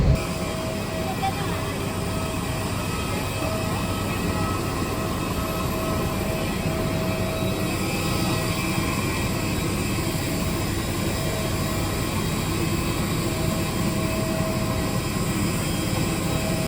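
Steady airplane cabin drone during a flight from Kochi to Don Mueang airport in Thailand, a constant loud broadband roar and hum with no breaks throughout.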